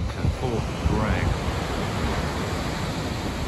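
Ocean waves wash on the coast near Fort Bragg, California at sunset, a steady, loud roar of surf mixed with wind rumble against the microphone.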